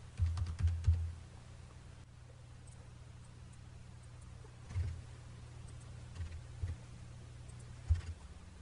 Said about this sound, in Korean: 2018을 입력합니다.